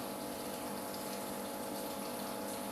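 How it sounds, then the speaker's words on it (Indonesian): Water pours steadily into the skimmer pipe of a fish pond with an aeration system, a continuous close rushing flow that stays even throughout without pause. "Jadi nanti airnya akan masuk ke pipa ini."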